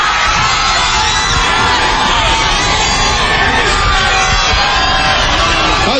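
A dense crowd roars and cheers as a band is introduced at an intimate indoor music-TV show, a loud, sustained wall of shouts and whoops that never lets up.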